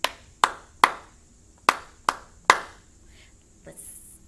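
A class claps a rhythm together in two groups of three sharp, crisp handclaps with a brief pause between the groups, followed by faint room noise.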